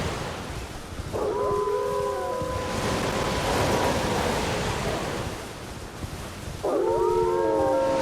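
Wolves in the video game Elden Ring, set in Limgrave, letting out two separate rising, wavering howls a few seconds apart, layered over a constant roar of wind and surf.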